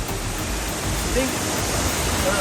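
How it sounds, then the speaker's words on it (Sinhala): The Theliya Watunu Ella waterfall among tea estates roars in a steady, close wash of falling water, with no break for the whole stretch. "තලියවැටුණු ඇල්ල ළඟ තමයි මේ ඉන්නේ."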